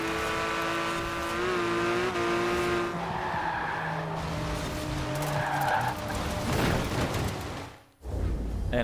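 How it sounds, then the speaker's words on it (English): Race car in Forza Horizon 4 sliding downhill too fast and losing traction, loud engine roar giving way to sustained tyre squeal and skidding noise, ending in a sudden cutoff and a heavy thud of impact. "Massive loss of traction there, was going too fast down the hill."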